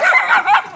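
A dog gives a few close, loud yipping barks in quick succession, with a slightly whimpering edge and no talk over it.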